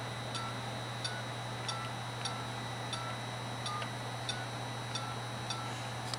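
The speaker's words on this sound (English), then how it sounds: "Got two beeps. Two beeps. One beep." A TeleDoorbell being programmed over a phone line gives a steady series of short, evenly spaced electronic beeps over a constant low line hum, close and without talk.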